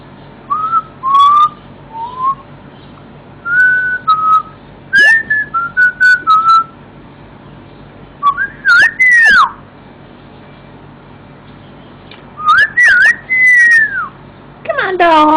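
A pet parrot gives short, clear whistled notes and rising and falling phrases in scattered bursts with pauses between them, close and fairly loud, broken by a few sharper squawks near the end.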